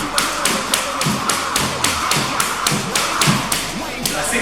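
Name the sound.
jump rope double unders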